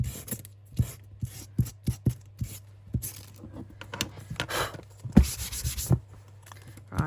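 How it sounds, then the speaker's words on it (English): A junk journal page being sanded by hand: about a dozen close, rhythmic rasping strokes, some harder than others, with no voices. "we're just gonna sand because"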